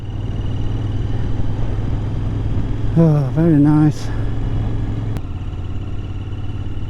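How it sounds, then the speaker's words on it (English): A Royal Enfield Continental GT650 motorcycle engine runs at a steady, low idle-like throb throughout, with someone speaking briefly over it partway through. "Just listen to the engine."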